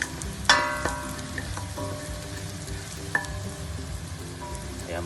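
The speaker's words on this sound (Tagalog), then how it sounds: "tagisa lang natin ang bawang hanggang maging light brown din po siya" Garlic sautéing in a pan for chicken arroz caldo, a steady close sizzle with occasional sharp clinks of a utensil against the pan.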